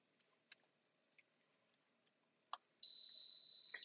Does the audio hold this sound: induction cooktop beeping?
yes